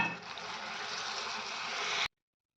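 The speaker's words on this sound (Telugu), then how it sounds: "నానబెట్టి తీసుకున్న చింతపండు వాటర్" Soaked tamarind water poured into a pan of fried crabs and chili powder makes a steady, close wash of liquid for about two seconds, then cuts off abruptly into silence.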